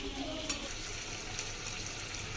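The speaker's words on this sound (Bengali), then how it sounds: "এইভাবে আমি ঢাকা দিয়ে দিয়ে মাংস কষিয়ে নিয়েছি আর মাংস কষানো হয়ে গেছে। এবার আলু দিয়ে দেব" Potatoes go into a sautéed country chicken curry, setting off a steady, close sizzle of frying that runs unbroken with faint stirring underneath.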